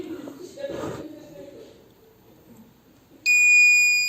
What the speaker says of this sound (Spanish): tendría que encender el LED rojo y activar el buzzer, ya que detecta humo a más de 300